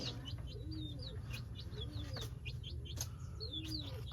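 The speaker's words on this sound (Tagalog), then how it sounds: "Ito nga pala yung mga dumalaga kong sisiw." Young chickens, pullets and chicks, chirp repeatedly in a steady flurry of high, thin peeps over a low, constant background rumble, fairly close and moderately quiet.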